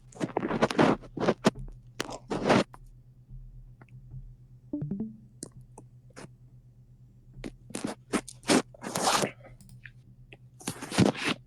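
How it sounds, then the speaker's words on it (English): Crunching, rustling bursts from movement close to a microphone, coming in irregular clusters with quiet gaps between them and no talk. "The crunching noise of movement."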